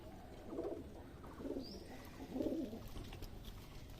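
Racing and tumbler pigeons coo in low, throaty bursts as they land for feed, three rounded calls spaced about a second apart, with faint rustling and a soft distant chirp behind.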